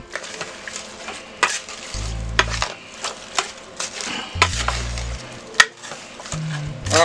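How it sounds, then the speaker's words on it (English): Diced tomatoes, one can plain and one can Rotel, being stirred into a bubbling pot of homemade beef vegetable soup, with a steady close sizzle, wet stirring, and several low scraping thuds of the spoon against the pot. "So next we're going to add my 1 can of regular diced tomatoes and 1 can of my Rotel diced tomatoes. We're gonna mix this up in here a little bit."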